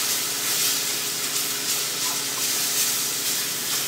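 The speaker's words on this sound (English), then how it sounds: "So I got my brown stock right here. Just going to add a little bit. And just stir that in." Brown stock poured into a hot roux in a pan, making a loud, steady hiss and steamy sizzle that continues throughout.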